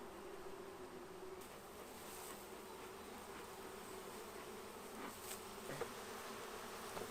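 A steady, dense buzzing of many young honeybees close by at a hive during an inspection, continuous throughout with slight swells in intensity.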